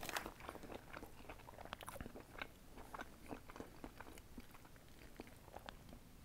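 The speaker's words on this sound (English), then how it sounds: "Now let me take another bite." Close, crisp bites and wet chewing on a burger topped with cream cheese, sauce, Anaheim peppers and jalapenos, a dense run of crunching and mouth sounds with no talking.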